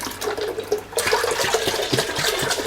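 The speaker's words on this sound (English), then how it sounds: "I should make an ASMR video of just milk pouring sounds" Four liters of unhomogenized milk pour from a container into a pot, a steady close-up splashing gush that swells partway through and continues without pause.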